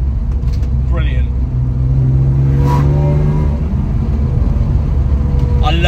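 BMW E36 328i with a naturally aspirated engine revving high on a sunny country road, a loud climbing engine note rising steadily inside the car while someone talks over it.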